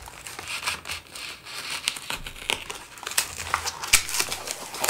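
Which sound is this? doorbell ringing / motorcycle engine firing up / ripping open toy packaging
ripping open toy packaging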